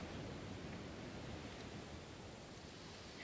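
Steady broadband water rush in The Last of Us Part 2 Remastered on PC, a constant even wash like flowing water or surf, fairly loud and unbroken with no voices.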